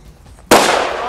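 Rapid gunfire bursts in abruptly and loud, then carries on as a dense, sustained roar of shots blending together with no break and no talking.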